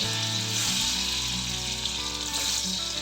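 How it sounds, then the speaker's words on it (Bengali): Pieces of pointed gourd (potol) fry in hot oil in a wok over medium heat, giving a steady, close sizzle that holds evenly throughout with no talking. "এখন কেটে রাখা পটলের বরফিগুলো দিয়ে দেব"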